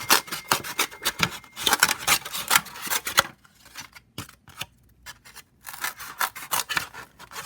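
Scissors snip a small section out of a plate to make a stamp for marker prints, with a rapid run of crisp, close cuts, a short pause, then more snipping, loud and alone.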